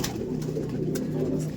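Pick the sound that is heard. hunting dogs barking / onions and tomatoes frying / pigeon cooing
pigeon cooing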